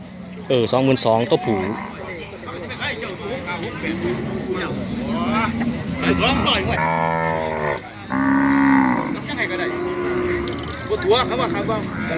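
Many cattle moo loudly and repeatedly at a crowded Thai cattle market, the calls close and overlapping, with steady crowd chatter and someone talking underneath throughout.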